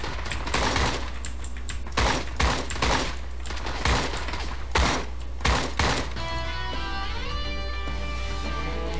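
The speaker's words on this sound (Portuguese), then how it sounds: "Eu acho que o tiro veio de cima." Gunfire in the Creative Destruction mobile game: a string of loud, sharp shots in quick irregular bursts over a heavy low hum, giving way to a tonal game sound at the end.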